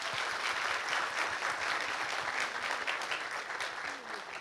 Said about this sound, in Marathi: त्या सगळ्या शिक्षकांसाठी एकदा टाळ्या होते.